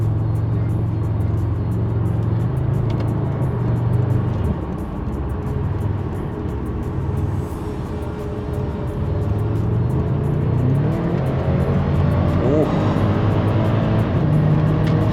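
A Subaru Legacy cruising at highway speed around 160 km/h, with steady low engine drone and road and wind roar filling the cabin throughout, rising slightly near the end.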